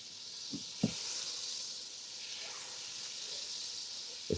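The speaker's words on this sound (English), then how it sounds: "You hear the sizzling?" Butter sizzles in a pan as the base for shrimp chowder, a soft, steady hiss with a few faint clicks and taps from the pan.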